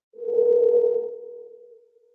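A single steady telephone tone sounds while a call is being placed, clear and alone, swelling in and then fading out over about two seconds.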